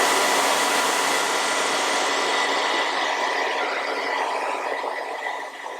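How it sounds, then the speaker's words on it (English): A hair dryer on a cool setting blows steadily over a wig with a loud, even whoosh that holds throughout and eases slightly near the end. "I'm going to take my blow dryer on a cool setting and just blow dry that"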